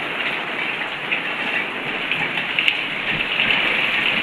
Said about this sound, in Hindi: उसके साथ उतनी तेज़ बारिश भी हो रही है